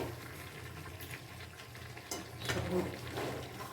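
Food being sautéed and stirred in a pan, low steady cooking noise with soft scraping and a brief louder stirring burst near the end, faint and close.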